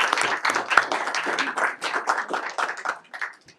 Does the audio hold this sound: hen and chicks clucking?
no